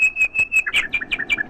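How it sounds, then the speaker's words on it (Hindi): A small bird gives a quick run of high, clear chirps, steady whistled notes at first and then rising and falling, close and alone. "चिड़िया की बोली है"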